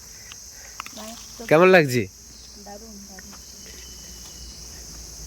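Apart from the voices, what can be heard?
crickets chirping loudly in Kalimpong forest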